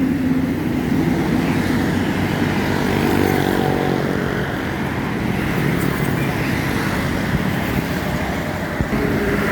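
An MPM Jet Bus 3 Sultan Class coach drives by on a road, its engine rumble and tire roar holding loud and steady over continuous traffic noise, with no voices over it.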